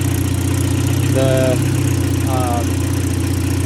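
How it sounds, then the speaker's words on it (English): Steady, even idle of a 1984 Volvo 245 Turbo engine, a low pulsing rumble heard up close, with a couple of brief voice fragments over it. "Motor purrs away happily."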